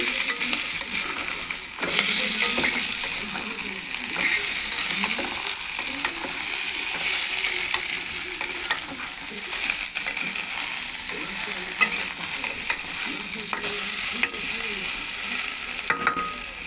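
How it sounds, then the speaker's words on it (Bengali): Chopped tomato and ginger-garlic paste sautéing in hot oil for a Bengali jackfruit and prawn curry, a steady loud sizzle with frequent spatula scrapes and clinks throughout. "এবার দিয়ে দিলাম টমেটো কুচিগুলো, আধখানা টমেটো কুচি, আর আদা আর রসুন বাটাটাও দিয়ে দেবো।"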